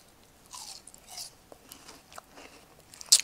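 Someone bites and chews chunks of seedless watermelon, with several soft, wet crunching bites in an irregular rhythm, close and fairly quiet, ending on a sharper crunch.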